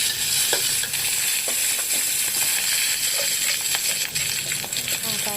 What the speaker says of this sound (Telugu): గుప్పెడు పచ్చిమిరపకాయలు తీసుకొని నూనెలో బాగా వేయించుకోవాలండి